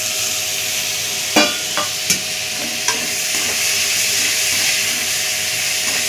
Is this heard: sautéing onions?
yes